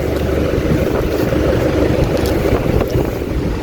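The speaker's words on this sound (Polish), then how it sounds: "Ale wieje wiatr." Strong wind blowing outdoors by a boat, a steady, loud, low rumbling gust battering the microphone without pause, with faint water movement beneath.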